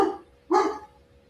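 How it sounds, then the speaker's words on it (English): A single dog barks once at moderate distance, a short sharp bark preceded by a fainter whine-like yip, heard alone against a quiet room with a faint steady hum. "My dog's barking."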